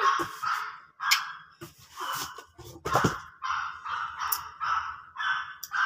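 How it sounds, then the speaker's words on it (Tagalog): Dogs barking and yipping in repeated bursts, fairly close and loud, with some whimpering squeaks between barks. "at maingay yung mga aso"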